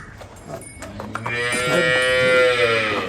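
A water buffalo gives a long, loud low moo close by, following a few soft clicks and shuffles.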